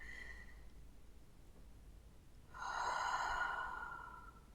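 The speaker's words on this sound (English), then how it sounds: "The longer you can take your breath out, the exhale, the less hold anxiety has" A single slow exhale during a grounding breathing exercise, a soft, breathy rush of air lasting a couple of seconds close to the microphone, alone in a quiet room.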